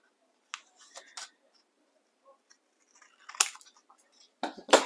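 Scissors cutting through stacked junk journal paper pieces, a few sharp close snips and crisp paper rustles separated by quiet pauses.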